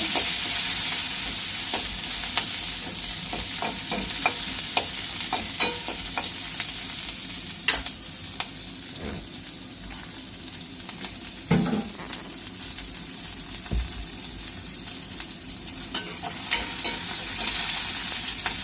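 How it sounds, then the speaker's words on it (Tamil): Curry leaves, with mustard seeds already in the pan, crackle in hot oil while a utensil stirs and scrapes. The sizzle is close and steady, with intermittent sharp pops and taps. "கருவேப்பிலை நல்லா தாளிச்சு"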